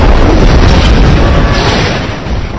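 A missile attack strike on enemy fighter planes at an airbase, heard as a loud, sustained, rumbling explosion boom that fills the whole clip and slowly tapers off.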